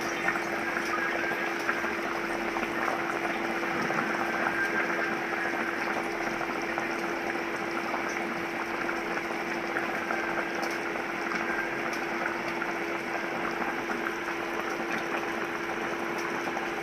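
Chicken bhuna simmers in water in a pot. A continuous close bubbling and boiling hiss goes on steadily, with a faint low hum underneath.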